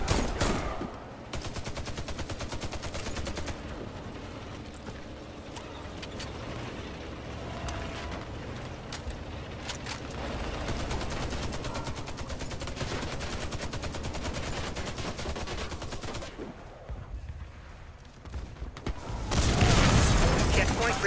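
Dense, continuous gunfire and mechanical clatter surround a tank under attack in the Warface co-op mode, a sustained wash of shots and rattling with a louder swell near the end.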